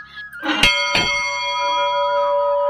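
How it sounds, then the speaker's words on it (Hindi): A temple bell offered at a Shiva temple, facing a Nandi statue, is struck twice in quick succession, each clang ringing out clearly and leaving a long, bright, humming tone that slowly fades. "और ये देखिए घंटी ये किसी ने चढ़ा रखी है"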